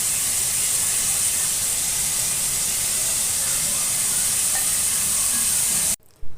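Cauliflower stems and carrot stir-fry over a high flame for fried rice, giving a loud, steady hiss of sizzling oil and steam that carries on unbroken, then cuts off abruptly near the end.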